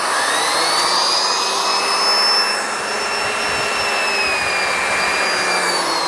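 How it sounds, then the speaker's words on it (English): A Miele Guard M1 cat and dog vacuum cleaner runs at its highest suction setting, a loud, steady, close whooshing roar with a high whine that holds evenly and dips slightly partway through. "This is the highest."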